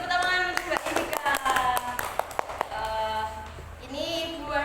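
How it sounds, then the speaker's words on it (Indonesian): In a classroom micro-teaching session, a few people clap in a short, sharp cluster that fades out, with voices talking around it. "beri tepuk tangan Mbak Indika"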